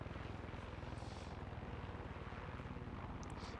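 Far Cry 6 helicopter engine sound in the video game, a steady, rapid rotor and engine thrum that stays loud and constant with no talking over it.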